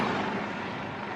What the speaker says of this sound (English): And I apologize for that helicopter sound.